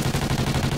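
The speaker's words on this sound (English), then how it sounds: "I'm shooting with a pistol." Pistol shots in an online multiplayer shooter game fire in a quick, even series of sharp cracks, about seven in under a second, loud and close with no talking.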